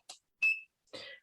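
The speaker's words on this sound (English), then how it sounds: "anti-aging bed paddle thing that's beeping" Three short electronic beeps spaced roughly half a second apart come from an anti-aging bed paddle device, close and clear against silence.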